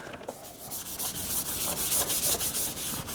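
Steady abrasive scratching of sandpaper worked back and forth over scrap wood for a cross, close and continuous with slight strokes in rhythm.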